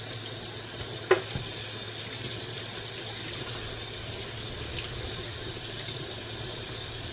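Raw pork belly is rinsed under a running kitchen tap, giving a steady, even hiss of flowing water that continues throughout, with one sharp click near the start.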